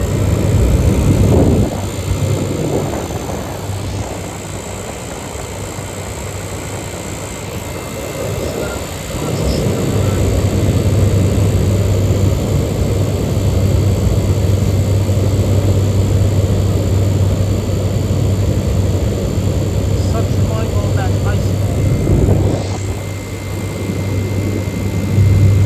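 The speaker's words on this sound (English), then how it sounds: "I'll show you guys the fan motor" An outdoor air conditioner unit's fan motor runs on a hot day with a loud, steady drone and low hum, broken by a few brief louder whooshes.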